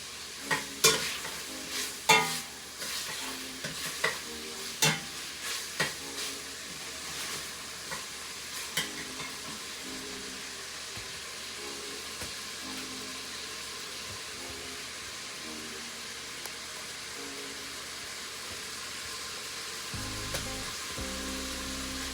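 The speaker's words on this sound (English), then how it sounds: "stir it every now and then because you don't want it to stick" Zuppa Toscana soup being stirred in a pot, with repeated spoon knocks and scrapes at first, then a long steady simmering sizzle, close and moderately loud, with no speech.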